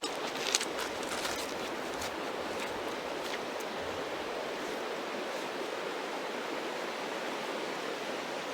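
The Hoh River in the Olympic National Park rainforest rushes past in a steady, full roar of flowing water that stays constant and close, with no voices.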